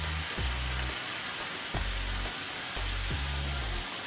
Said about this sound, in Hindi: 1 टेबल स्पून हम इसमें डालेंगे सोया सॉस।